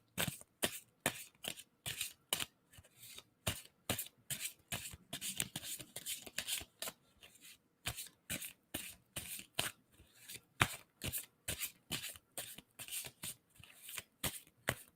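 A deck of tarot cards is shuffled by hand in rapid repeated riffles and slides, a long run of crisp papery bursts close to the listener with no talking.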